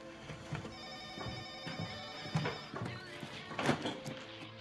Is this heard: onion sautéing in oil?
no